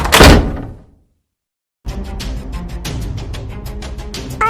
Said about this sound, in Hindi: तभी अचानक एक जोरदार आवाज के साथ दरवाजा खुलता है